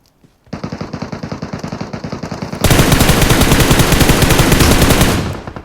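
Rapid automatic fire from an M762 rifle in PUBG Metro Royale, a loud, close burst of evenly spaced shots that grows denser and heavier partway through, then cuts off.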